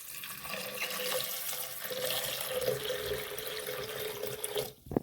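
Water runs steadily from a tap into a pot of lentils for sambar, a continuous splashing pour that stops abruptly near the end with a small clunk.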